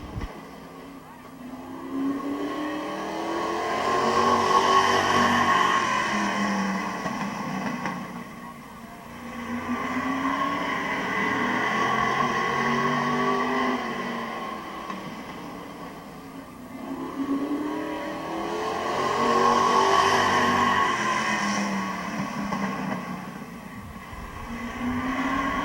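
Race cars circle a speedway oval at Midvale Speedway, their engines droning in long swelling waves as the pack passes and fades, then builds again, with a steady rumble throughout.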